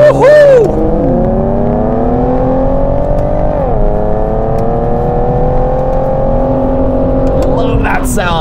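A 2015 Infiniti Q60S sports coupe's V6 engine pulls hard in drive sport mode, a loud, close, rising growl that drops briefly at a gear change and keeps climbing for several seconds.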